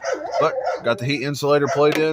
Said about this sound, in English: sorry my dog is barking in the backyard